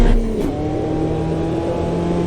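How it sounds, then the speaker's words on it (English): A race car engine in the racing game Automobilista 2 holds a high, steady over-revved drone, loud and close, after a brief low thump at the start. "I over revved the engine a bit there"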